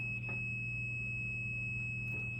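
A multimeter emits a steady continuity beep throughout while testing electrical connections. The high, constant tone is close and unbroken, with faint background noise and no talking.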